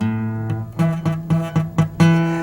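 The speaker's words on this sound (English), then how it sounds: "If you have some strings that are not coming out or to get a little fuzzy sound like this," A few quick guitar notes picked in a short run, with a slightly fuzzy, buzzing edge on some strings as they ring.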